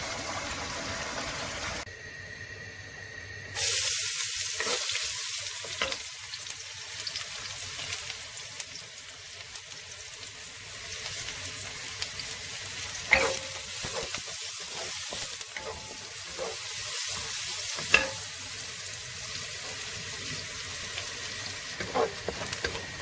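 Diced large onion sizzles loudly in hot oil, a continuous frying hiss that starts after a quieter opening, with scattered clinks and scrapes of stirring throughout.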